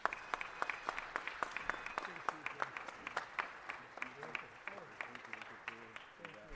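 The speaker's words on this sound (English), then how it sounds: "Let's give them one more round of applause." Scattered applause in a city council meeting room, moderate hand claps in an uneven rhythm with voices talking underneath.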